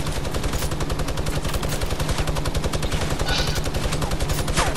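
Rapid automatic machine gun fire in the Fortnite video game, a dense, continuous stream of loud, close shots with no pauses.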